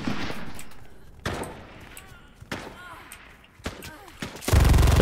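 Gunshots in a shooter video game sound as several sharp single cracks spread across a few seconds amid game noise and speech, ending in a loud, sustained blast.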